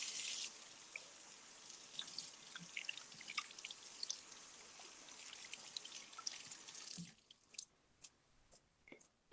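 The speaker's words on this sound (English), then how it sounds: "rinse off all the soap." A bathroom tap runs steadily while soapy hands are rinsed beneath it. The flow cuts off near the end, leaving a few soft drips.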